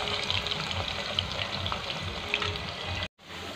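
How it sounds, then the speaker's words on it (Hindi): Potatoes sizzling in hot oil in a pan while a dhaba-style parwal (pointed gourd) sabji is being cooked, a steady close crackling fry that runs throughout and cuts out briefly near the end. "हम लोगों ने तेल पे आलू डाला हुआ है और थोड़ा सा उसको थोड़ी देर पकाना पड़ेगा"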